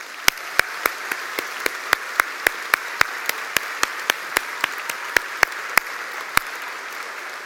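Graduation audience at a university School of Education ceremony claps in a steady stream of sharp, distinct hand claps, loud and close, without speech.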